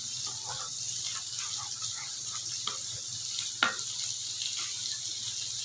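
Masala for shahi paneer is stir-fried over medium flame, making a soft steady sizzle with occasional scraping ticks of the spoon and a low background hum.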